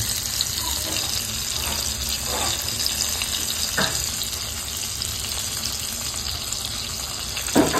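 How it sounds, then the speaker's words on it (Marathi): Prawns roasting in a pan in a home kitchen, a steady close sizzle and hiss with occasional clinks of utensils and no talk. "आता सोनालीने घेतली कोलंबी भाजायला"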